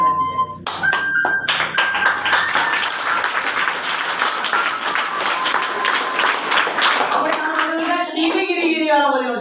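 Audience clapping at a performance by a visually impaired flute player, rhythmic hand claps in a fairly loud, steady stream with tonal music sounds at the start and a voice toward the end.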